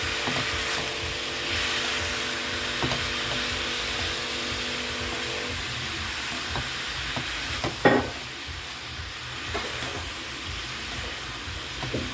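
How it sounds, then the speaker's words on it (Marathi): A spoon stirs chili powder and coriander masala into potato, pea and cabbage frying in a pan, making a steady sizzle with scraping and clinks, one louder knock midway, and no talking. "मिरची पावडर धनिया मसाला पूर्ण आपल्याला एकजूट करून घ्यायचा"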